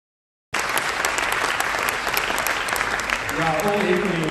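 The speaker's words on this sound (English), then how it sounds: "Congratulate Peter and his team with a heartfelt applause" Sustained audience applause at a local news launch event in Greater Western Sydney, dense and steady after a short silence, with a few voices rising near the end.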